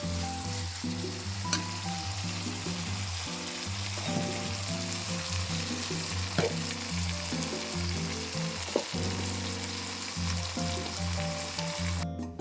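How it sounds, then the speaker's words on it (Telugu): Potato, broad beans and ginger frying in a pan while a spatula stirs them, a soft continuous sizzle with scattered scraping clicks, set under a steady low hum and tonal background music throughout. "ఇప్పుడు ఒక ఐదు నిమిషాల పాటు ఇలాగే గెరటతో కలుపుతూ ఫ్రై చేసుకోవాలి అల్లాన్ని పచ్చివాసన పోయే వరకు"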